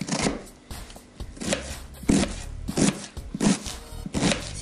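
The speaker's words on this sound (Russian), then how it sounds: "Сейчас я ее порежу." A knife chops through cabbage on a cutting board, a series of about eight sharp, close strikes in an uneven rhythm, each with a crisp crunch, with no talking.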